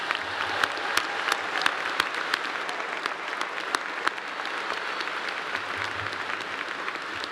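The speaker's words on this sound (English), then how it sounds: "give a big, loud round of applause for Ansley for the great job she did singing the national anthem" A graduation ceremony crowd applauds the national anthem singer, with sustained, dense clapping from a large audience, steady and fairly distant, without speech.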